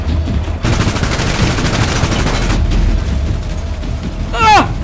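Bursts of rapid gunfire rattle in GTA roleplay, a sustained volley followed by sparser shots and a brief rising whoosh at the end.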